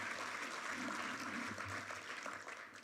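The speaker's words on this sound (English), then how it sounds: "Clap it up for that, because that's big." An audience at an annual meeting breaks into steady, sustained applause, a dense wash of clapping that holds for several seconds before tapering slightly.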